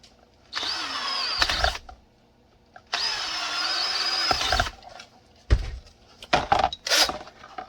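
A power drill bores holes in a Glock 19 Polymer80 frame, whirring in two sustained bursts with short clattering handling noises between and after them.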